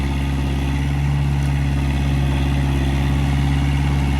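A Kubota MU4501 45 HP tractor drives a 10-foot rotavator with 16-19 gearing in a field, a loud, steady low engine drone with a strong constant hum and no pauses.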